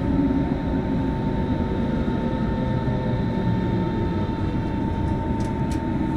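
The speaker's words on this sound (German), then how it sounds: "Eingefahrener Zug auf Gleis 2." S-Bahn train on the Berlin Ring arriving at platform 2 in Train Simulator Classic: a steady low rumble with a faint sustained tone above it, plus a couple of brief high squeaks near the end.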